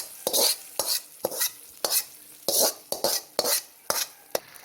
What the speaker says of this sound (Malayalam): ഈ ശകലം കടുക് പൊട്ടിച്ചിട്ട് ഉള്ളിയും കൂടെ മൂപ്പിച്ച്